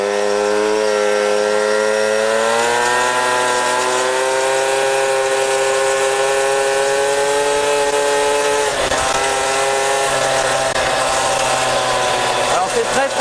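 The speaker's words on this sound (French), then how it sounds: "Donc on va pouvoir utiliser les pleins régimes du moteur." An AV88 motorcycle engine held at high revs while riding, a loud continuous buzzing drone with a slowly rising pitch, close up and dominant throughout, with wind rush beneath.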